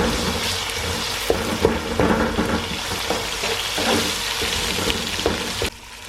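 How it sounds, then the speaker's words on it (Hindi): Raw chicken is dropped into a pan of onion, ginger and garlic browning in hot oil for palak chicken, giving a steady close sizzle with a few sharp bursts and clatters and no voices. "चिकन डाल दें।"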